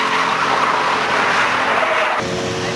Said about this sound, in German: Dann macht er die Reifen runter